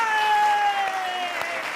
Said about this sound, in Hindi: आप बोलो फिर भी हम कविता पे ताली बजाएंगे